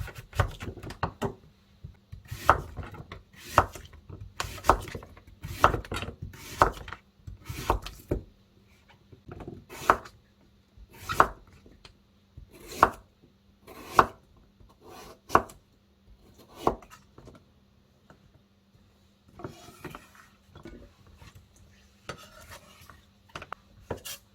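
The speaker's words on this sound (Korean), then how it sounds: "얇게 썰어 볼게요." A knife taps sharply on a cutting board, thinly slicing radish in a steady series of chops, some quick doubles, pausing briefly and then continuing softer near the end.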